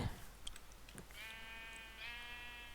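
A single sheep bleats in the video game Minecraft, a wavering nasal cry that holds steady for about a second and a half, heard alone and quiet over faint background hiss.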